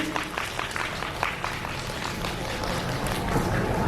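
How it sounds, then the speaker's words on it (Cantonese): An audience applauds at an amateur Chinese folk dance performance, with dense, steady clapping from a crowd filling the whole stretch at an even loudness. "我哋俾啲熱烈嘅掌聲"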